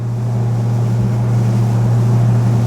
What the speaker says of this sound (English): It's a little bit of noise from that engine.